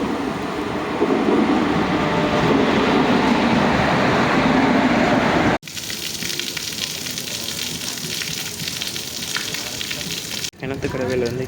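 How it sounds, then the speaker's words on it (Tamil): A steady, loud rush of a passing passenger train in India with broadband hiss and rumble, broken by a couple of abrupt cutoffs as the sound shifts. "நம்ம அந்த பேசஞ்சர் ட்ரெயின் வரட்டும் பார்க்கலாம் வாங்க"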